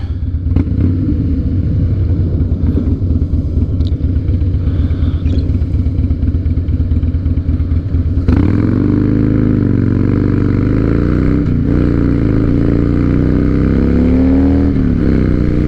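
A 2007 Harley-Davidson Night Train engine runs loud and close with a throbbing, uneven idle, then revs up into a deeper, smoother roar whose pitch rises and falls with the throttle.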